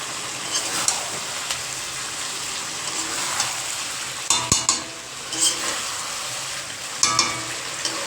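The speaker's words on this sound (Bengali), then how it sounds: "মাংস কষানো চলছে এখন" Meat being sautéed in a pan with cumin seeds tempering, a steady sizzle running throughout with occasional scraping stirs and light clinks from the utensil, close up and with no voices.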